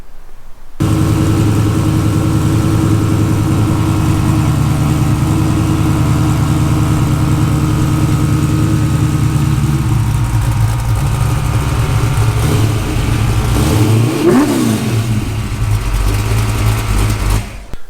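A car exhaust fitted with its original system before a Dynomax muffler swap, idling with a steady low rumble close by, then blipping into a short rev near the end before settling again.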